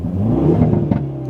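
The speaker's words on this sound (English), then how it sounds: "And you hear the loud pops." A Hyundai hot hatch with a six-speed manual transmission revs briefly and loudly at close range, and a few sharp exhaust pops and crackles break through the engine drone near the end.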